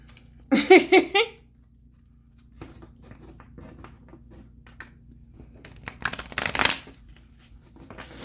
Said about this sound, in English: my shuffling skills just leave something to be desired